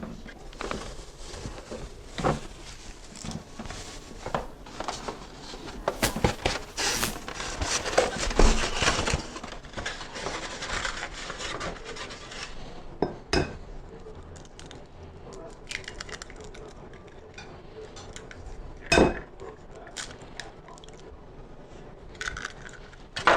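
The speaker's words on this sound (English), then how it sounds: "to this dirty bowl, I'm going to add 2 eggs and slightly beat them" Two eggs are beaten in a used bowl, giving irregular clinking and tapping of a utensil against the bowl, with bursts of sharper knocks and scraping, fairly close.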